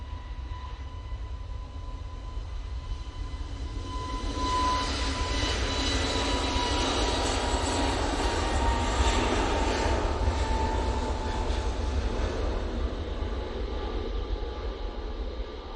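Airbus A320neo airliner departing Manchester Airport for Madeira Funchal, a distant jet engine roar that swells to a broad rumble midway, then eases off slightly.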